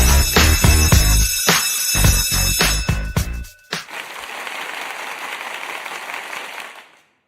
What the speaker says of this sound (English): It's the applause at the end for me.